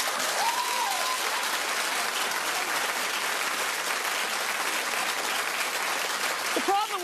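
Studio audience applause on a daytime talk show, a sustained dense clapping with cheers and a few whoops, loud and continuous from start to finish.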